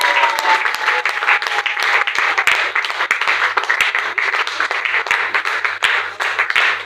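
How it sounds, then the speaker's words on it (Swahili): Church congregation clapping steadily in sustained, dense applause, close and loud, with a faint voice briefly audible beneath it. "Ongeza makofi mengine ya kutosha."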